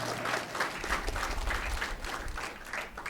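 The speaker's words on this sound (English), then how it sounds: "Give him a round of applause." A crowd applauding steadily at a medical equipment donation ceremony, dense clapping at a consistent moderate level throughout the short stretch.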